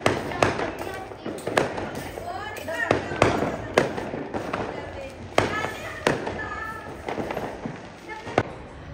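Diwali firecrackers going off in repeated sharp bangs and crackles spread across the stretch, fairly close, with people talking and calling out between and over the bursts.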